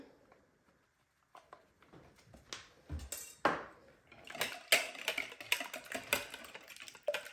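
Eggs being whisked with salt and pepper in a bowl, heard as quick, uneven clicks and taps of a whisk against the bowl that grow busier and louder toward the end.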